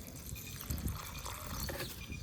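Water is poured into a pit at a plant's roots in a village, a steady, soft splashing trickle heard alone without talk and fairly faint throughout.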